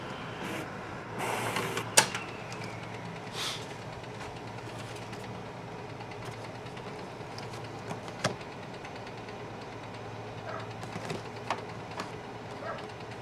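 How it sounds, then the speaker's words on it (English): A Canon Pro-1000 photo printer whirs and clicks as it tries to grab the paper, with a low, steady mechanical hum and brief rattling bursts at moderate volume. "One minute and 8 seconds for the printer to try to grab the paper again."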